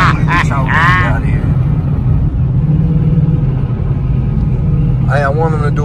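Engines of a Dodge Hellcat and a twin-turbo Cadillac CTS-V rumble loudly and steadily throughout, a deep continuous drone with people talking over it near the start and end.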